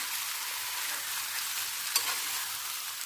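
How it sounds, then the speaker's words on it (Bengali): A filling of mashed fish and potato with salt, turmeric, sugar and garam masala fries in a pan, a steady close sizzle with a single sharp scrape of stirring partway through. "ভাজা ভাজা করে নিতে হবে।"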